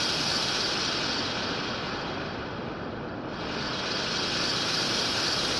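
A synthesized rocket launch effect roars as a dense, sustained broadband rumble with a hissing top, briefly dipping as a filter sweeps down mid-way, then swelling back to full strength.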